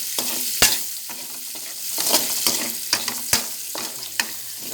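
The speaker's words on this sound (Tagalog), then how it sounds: "Sinita ko na yung sibuyas bawang." Onion and garlic sauté in a frying pan, a steady sizzle broken by repeated sharp clacks and scrapes of a utensil stirring against the pan.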